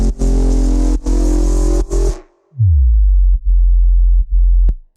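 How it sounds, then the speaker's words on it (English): A simple synthesizer sine-wave bass pulses loud in choppy stabs, then swoops downward in a pitch bend into a long droning tone broken by brief gaps, with no voices. "It's just a simple sine wave"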